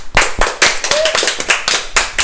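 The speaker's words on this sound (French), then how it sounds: "On applaudit notre équipe." A small group of people clapping for a film crew after a long day of shooting, sharp close-up hand claps in an uneven rhythm with a voice briefly heard among them.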